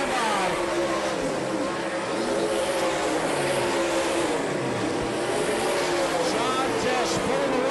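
Dirt track race cars roar past on the final lap, engines loud and continuous with rising and falling revs as they go down the back straight, under steady crowd noise and a talking announcer.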